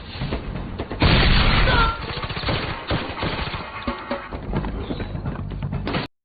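Loud bursts of rapid gunfire and booming shots from upgraded weapons in the game Free Fire, continuous for several seconds with a heavy blast near the start before cutting off abruptly.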